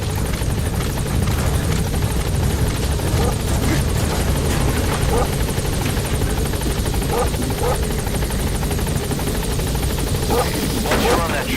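A support helicopter in Metal Gear Solid V arrives with a loud, continuous rotor thrum and whine that holds steady throughout, and some faint voices and clicks sit under it.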